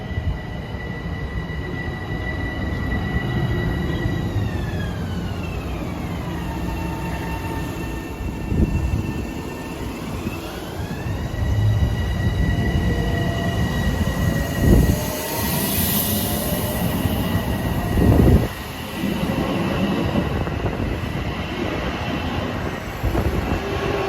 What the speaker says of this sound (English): arriving westbound is train 1657 from Huntington to Grand Central